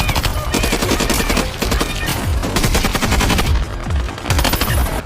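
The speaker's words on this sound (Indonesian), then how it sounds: "Dan baku tembak pun tak dapat dihindarkan lagi." Intense bursts of rapid gunfire overlap continuously in a film, automatic weapons rattling in a dense, loud exchange with heavy booming shots.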